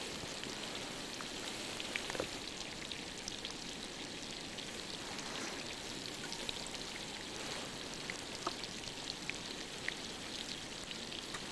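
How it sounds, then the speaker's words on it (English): Ice fizzing and crackling as compressed snow melts in a tidal whirlpool near Upernavik, a steady dense hiss of tiny bubbling pops with occasional sharper clicks, continuous and fairly close, no voices. "the ice fizzing in the background you hear is actually compressed snow"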